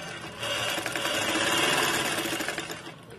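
A sewing machine stitches along the edge of a V-shaped Chinese collar with buckram inside, a steady close mechanical whirr that speeds up and then eases off over a few seconds, no speech.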